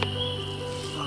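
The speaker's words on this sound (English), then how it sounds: "You can hear the frogs." Frogs call steadily around a night campsite as a grill warms up. Their continuous, even trilling chorus is moderately loud and runs the whole time with no talk.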